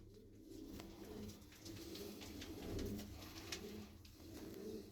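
Iraqi pigeons with feathered feet coo in low, continuous murmuring calls, faint and steady amid a busy loft background.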